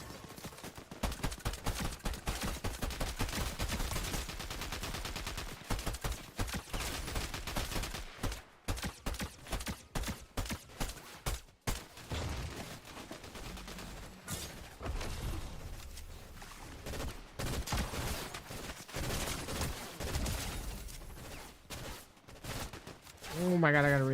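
Rapid pistol gunfire in Fortnite during an FNCS Major match, dense loud bursts of overlapping shots with brief gaps through the first half, then continuing game noise and effects.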